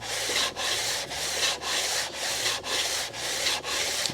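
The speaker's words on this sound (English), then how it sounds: "I'm gonna start on the 320 side, and I'm gonna get sanding." A Ford Motorsports cylinder head is wet-sanded with 320 grit and WD-40, giving a rhythmic, close rasping in even strokes, about two per second, steady and alone.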